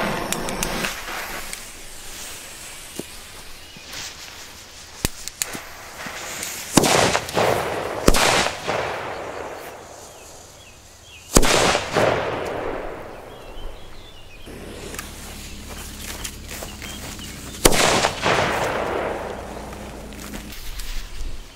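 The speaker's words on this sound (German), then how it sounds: "Wir fangen an mit den Funke D Böllern." A series of Funke D firecrackers bang outdoors, several sharp loud blasts spaced seconds apart, each followed by a crackling, fading tail.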